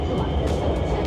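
Subway train rumbling through the Wuhan metro, a steady low roar of wheels and motor with constant broadband noise throughout a short stretch, no clear speech on top.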